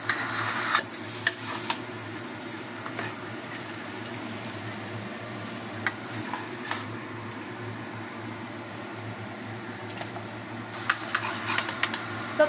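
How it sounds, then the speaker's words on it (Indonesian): Mushrooms stir-fried with oyster sauce in a wok while preparing traditional Chinese New Year dishes in Hong Kong, giving a steady soft sizzle with scattered light scraping and stirring clicks throughout, fairly faint and with no talking. "Setelah jamur kita tumis-tumis, kita kasih saus tiram sedikit"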